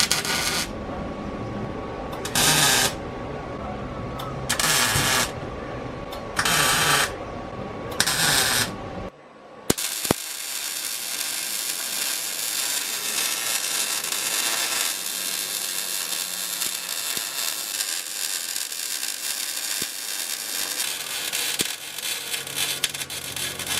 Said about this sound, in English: I'm gonna bust out the welding machine, tack this up, bring it out, weld it up, and be done with this.